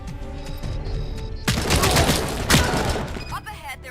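AK-74 gunfire in a video game comes as a burst of rapid rattling shots that starts abruptly and rolls on for a couple of seconds over game music, with a sharp crack near the end.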